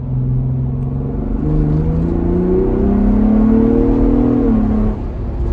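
Engine of a Ford Bronco Raptor brake boosting in third gear, a loud close rumble whose pitch climbs steadily as revs build, then drops back at the end, with no talk.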